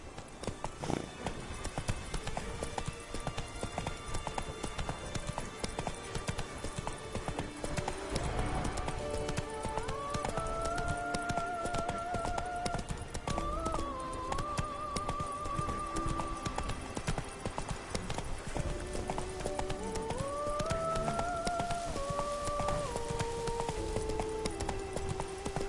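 Horse hooves clip-clopping at a steady trot or gallop across The Witcher 3's Blood and Wine countryside, continuous and fairly close, with background music and a brief rider's call.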